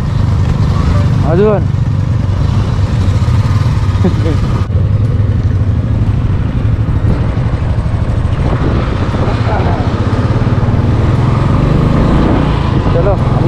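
A motorcycle engine on a touring bike ride revs and idles close by, a loud continuous rumble with rising pitch sweeps, while a person speaks briefly over it.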